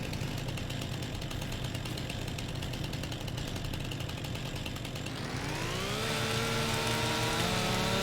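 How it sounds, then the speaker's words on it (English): A chainsaw in Farming Simulator 25 drones steadily while cutting logs, then its engine revs up and rises in pitch near the end. "Let's do this chainsaw."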